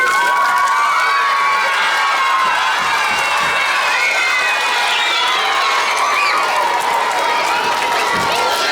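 A crowd of children cheers and shouts with scattered applause at a school reading challenge kickoff, a loud, dense wall of high-pitched voices sustained throughout.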